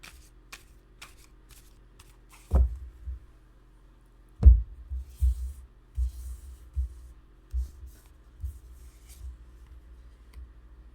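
Tarot cards are gathered and shuffled in a few quiet, separate bursts of riffling and tapping against a surface, close by and soft, with no talking.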